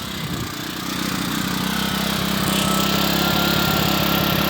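A Zipper 1100 portable generator's small engine runs close by, with a loud, steady, rattling drone that builds slightly at the start and then holds even.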